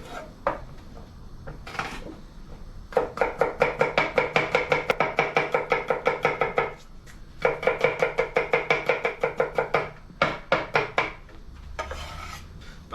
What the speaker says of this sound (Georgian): ჭრით ნიოს.